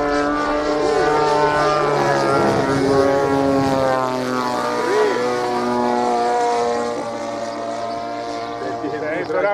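Large-scale Yak 18 model airplane with a 60cc petrol engine running on the ground, a loud steady buzzing drone with strong harmonics that shifts pitch slightly midway, with people talking nearby.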